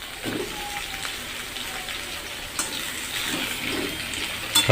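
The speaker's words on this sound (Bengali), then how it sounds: "আলু ভেজে নিচ্ছি তেলে আলুটা একটু লাল লাল করে ভেজে নেব" Potatoes fry in hot oil in a wok, a steady close sizzle with faint stirring scrapes and small bursts of spitting, no voices.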